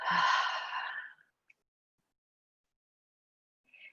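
A slow, breathy exhale during a guided breathing exercise, one long soft breath lasting about a second, close and quiet, followed by near silence and a faint breathy sound at the end.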